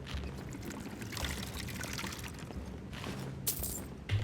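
Water pours and gurgles steadily as water skins are filled in the fantasy game Skyrim, a continuous splashing stream with a brief brighter burst near the end.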